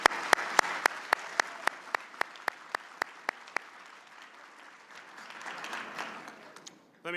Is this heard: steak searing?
no